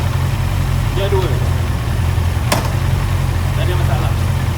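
A Honda CB650R motorcycle with an e-clutch idles in gear, its engine keeping a steady, low, even rumble throughout. A voice talks close by over it.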